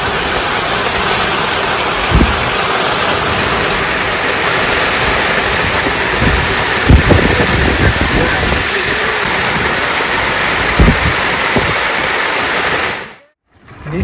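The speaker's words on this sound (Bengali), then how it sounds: "চারিদিকে শাঁ শাঁ করে বৃষ্টি হচ্ছে।" Heavy rain pours down steadily in the Sundarbans mangrove forest, a loud, dense, unbroken roar with a few heavier splashes, ending abruptly near the close.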